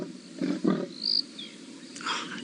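Male leopard giving a territorial call on a morning safari drive, a rasping sawing roar of a few close strokes with a fainter rising call after, over open bush ambience.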